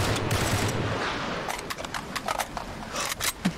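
Rapid gunfire crackles through a firefight in the video game Uncharted 3: Drake's Deception, a dense burst of automatic shots at first, then scattered sharp cracks and pops at uneven intervals.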